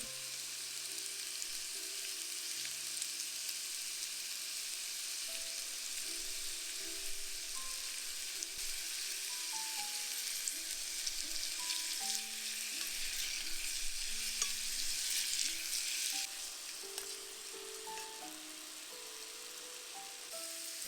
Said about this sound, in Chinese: 加入蜂蜜，再炒2分钟